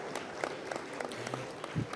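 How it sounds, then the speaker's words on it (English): Applause from a film festival audience, a brief, fairly quiet patter of scattered clapping with distinct individual claps over a soft room murmur. "Please give a round of applause."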